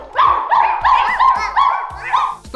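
A string of quick, high barks and yips follows in close succession, loud and near, apparently a voice imitating a dog.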